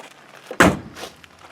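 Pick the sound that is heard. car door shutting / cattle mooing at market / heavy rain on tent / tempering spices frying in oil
car door shutting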